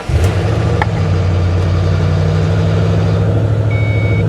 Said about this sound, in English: the engine was rattling a bit, but it probably hasn't been started in forever